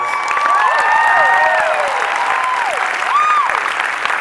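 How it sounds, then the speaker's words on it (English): Audience applause at a D23 Expo 2017 panel for the animated Tangled series, dense and loud throughout with scattered cheers and whoops rising over the clapping. "so give them a round of applause."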